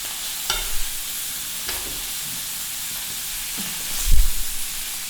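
Meat sizzles on a Korean barbecue grill in a steady close frying hiss, with a few soft clinks and a louder clatter near the end as pieces are moved.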